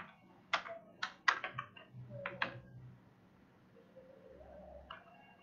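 Scattered keystrokes on a computer keyboard while code is entered, a few quiet taps and short clusters, then fading into near silence.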